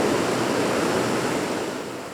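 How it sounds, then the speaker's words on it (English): Floodwater rushes over a damaged highway during the 1993 flood, a steady broadband roar like heavy surf that holds constant and eases slightly toward the end, with no voices. "the sound of rushing water"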